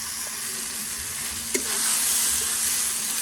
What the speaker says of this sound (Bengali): এদিকে মশলা কষা চলছে